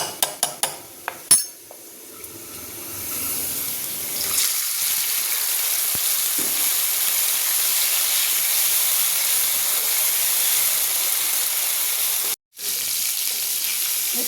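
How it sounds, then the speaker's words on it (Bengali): Garlic and ginger paste with chili powder sizzling steadily in hot oil for a beef dish, loud and continuous, with a few stirring knocks and clatters at the start and one brief break near the end. "এটা আমি বেশ করে সটে করে নিচ্ছি।"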